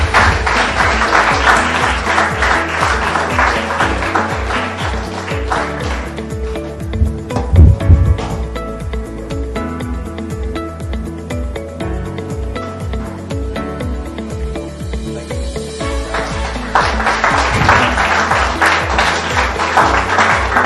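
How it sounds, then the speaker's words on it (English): An audience applauds warmly at a thank-you event for health workers, a loud, continuous crowd of clapping that softens through the middle with some tapping and background music-like tones, then swells again toward the end. "let's just applaud, let's just thank them for what they've done"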